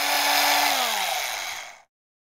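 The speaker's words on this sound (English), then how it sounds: "I've just finished drilling my holes" A loud, steady whine of a power drill running continuously while drilling mounting holes, its pitch sliding downward as it winds down, then stopping abruptly.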